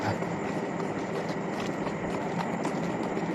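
Horse hooves seem to strike pavement on a street at night, caught on a CCTV camera as faint, irregular clops under steady broadband hiss and background noise.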